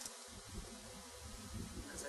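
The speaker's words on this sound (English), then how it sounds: "You'll get some house bees that will stand by the entrance and fan in a minute." A steady, close hum of honeybees buzzing near a hive entrance fills the air, continuous and even, with a faint voice in the background.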